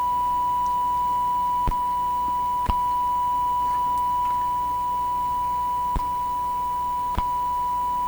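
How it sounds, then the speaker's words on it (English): A 19 kHz stereo pilot tone being turned up on a Clairtone console stereo's multiplex decoder, heard as a steady, unbroken sine tone running throughout with a few faint clicks and no talking. "I'm going to crank up the 19 kilohertz pilot signal"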